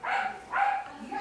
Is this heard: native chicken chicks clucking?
no